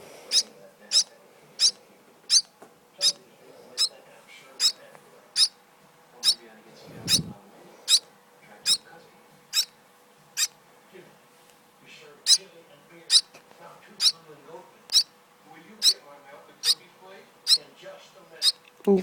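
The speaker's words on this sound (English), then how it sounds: "Even sleeping, the chirping doesn't stop much." Baby birds chirp steadily while sleeping, a regular train of short, high, bright peeps repeating about once a second, close and clear over a low background.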